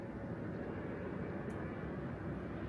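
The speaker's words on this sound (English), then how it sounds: "Pause for the plane." A fixed-wing airplane drones steadily overhead, a loud, continuous broadband roar that stays level throughout with no voices.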